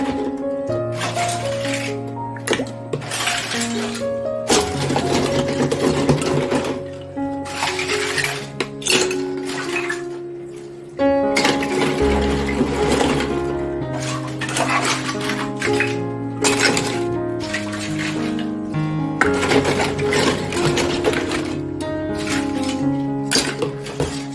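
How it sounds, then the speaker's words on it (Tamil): Toy mini kitchen utensils being washed with Vim dishwashing liquid: continuous small metallic clinks and clatters of the little pots and plates knocking together, over a steady tonal background, with no talking. "நல்லா கழுவி எடுத்துக்கலாம் எல்லா பாத்திரத்தையும்."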